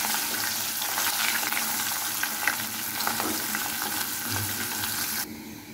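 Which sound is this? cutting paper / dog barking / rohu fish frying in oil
rohu fish frying in oil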